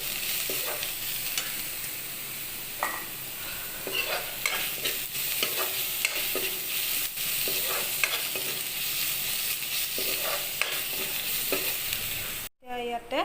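Bamboo shoots stirred in a pot while cooking for a lentil dish, with steady scraping strokes and a constant sizzle running throughout, close and alone, ending in a brief clatter.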